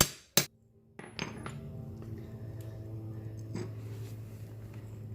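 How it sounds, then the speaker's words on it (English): A few sharp metallic hammer strikes on a socket drive a trailer bearing race home, followed by a lingering low ringing hum, close by with no talking. "a pretty good sized socket that rests on the top of the race there, and hammer it home"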